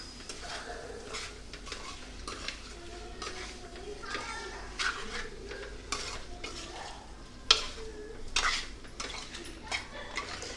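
Onion curry being stirred in a pan, a spoon scraping and clinking in uneven repeated strokes over a soft sizzle, close by, with a sharper knock partway through.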